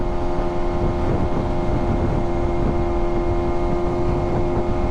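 A loud new motorcycle engine runs at a steady pace, giving a continuous close-up roar and rumble with no pauses or speech.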